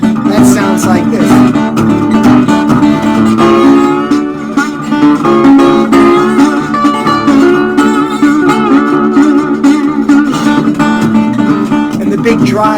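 A National Steel guitar imitates a train whistle, with sustained, wailing slide tones over a steady strummed accompaniment, loud and continuous throughout.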